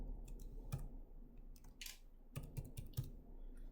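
Someone types a password on a computer keyboard: a few scattered key taps followed by a quick run of clicks, close and fairly soft in a quiet room.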